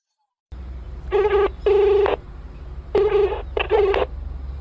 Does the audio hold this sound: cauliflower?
no